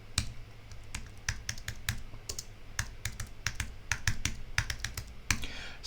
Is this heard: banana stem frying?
no